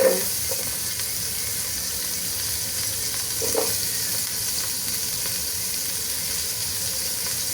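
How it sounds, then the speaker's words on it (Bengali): Chopped onions fry in hot oil with a steady, close sizzle and hiss that runs throughout, broken by a few soft stirring knocks near the start and midway. "তো আমি প্রথমেই তেল দিয়ে দিলাম, এবার আমি পেঁয়াজ কুচি দিয়ে দেবো।"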